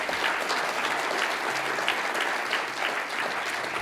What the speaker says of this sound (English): Can I have another round of applause for Ben?